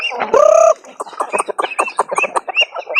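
Chickens cluck in a close, lively string of short calls, one longer drawn-out squawk near the start, with farm birds busy nearby and no talk.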